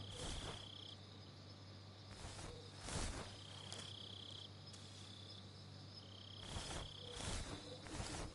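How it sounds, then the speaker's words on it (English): Crickets chirp steadily in a jungle setting in Metal Gear Solid 3, with soft frog croaks and a few rustling footsteps surfacing intermittently; faint and ambient, no talk. "I think there's a frog hopping around somewhere."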